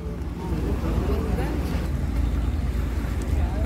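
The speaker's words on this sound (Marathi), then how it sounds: "आता ही बोट या ठिकाणावर सुटलेली आहे पुन्हा आपल्या दुसऱ्या प्रवासासाठी" A ferry boat pulling away from Mora Jetty near Uran, Navi Mumbai, its low engine rumble steady and dominant along with wind buffeting the microphone, and no clear voices over it.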